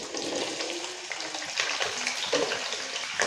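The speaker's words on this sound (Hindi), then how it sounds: "ऑयल हमारा गर्म हो गया। अब इसमें आलू डाल देंगे।" Potato pieces hiss and crackle steadily in hot oil in a pan, a continuous bright sizzle with occasional bursts and faint stirring scrapes, nobody talking.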